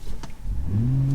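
A 2024 Nissan Z engine revs up in a single rising surge for a launch-control start, a close, loud mechanical roar that climbs steadily in pitch.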